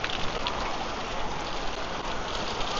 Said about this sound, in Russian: Вот это дождик!